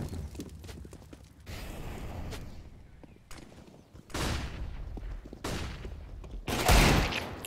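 Gunshots from an AWP sniper rifle and a Desert Eagle pistol ring out in a CS:GO match on the Inferno map, as several loud, sharp bursts separated by quieter stretches of in-game ambience.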